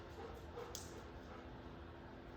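Two dogs, Blue Dog and Toby, give a few faint, brief yips and whimpers nearby over quiet background noise.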